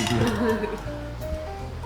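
Glasses clink together in a celebratory toast at a Japanese crab meal, with a few bright clinks early on and people talking over and after them.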